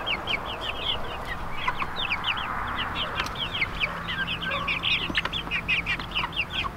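Indio Gigante chickens on a farm give off a busy chorus of rapid, high clucks and chirps, steady and fairly close throughout, with a faint low hum underneath.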